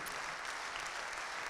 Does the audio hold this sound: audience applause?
yes